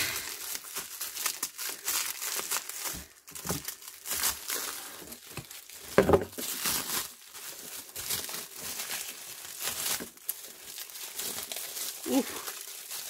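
A well-packed parcel of craft supplies is unwrapped up close, with loud crinkling and crumpling of packing material, a few tearing rips and bursts of rustling handling noise.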